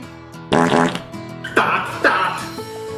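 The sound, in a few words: fart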